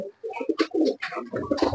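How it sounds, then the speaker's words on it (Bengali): A pigeon coos close by in a series of soft, throaty, rolling calls, loud and clear against a quiet background. "এই কবুতরটাকে আগে রেখে দিতে হবে খাঁচায়।"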